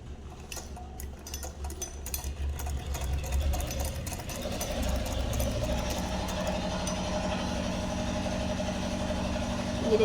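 A sewing machine stitches piping along a garment neckline, running with a fast, steady mechanical whir and rapid needle ticking that grows slightly louder and stays continuous.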